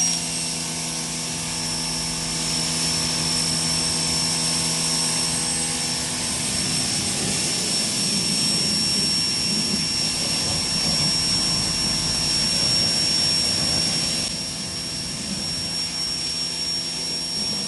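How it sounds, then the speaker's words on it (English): Water spray rinses a car tire, a steady loud hissing rush with a high tonal whine from the pressure washer running throughout. "we are ready for step number 4, which is going to rinsing the tire"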